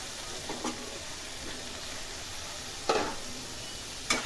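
Peas and cauliflower sauté in a pan for a Maharashtrian vegetable dish, giving a soft steady sizzle with a few sharper stirring scrapes and clinks toward the end.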